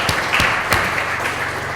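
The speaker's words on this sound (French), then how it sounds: "je vous prie également d'applaudir aujourd'hui" Audience applause at a French-language gathering in Lubumbashi, a short burst of loud, dense clapping that holds steady throughout.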